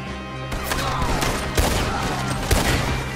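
A continuous barrage of gunshots in Red Dead Redemption 2, dense overlapping shots with a few louder reports standing out against a busy, noisy background.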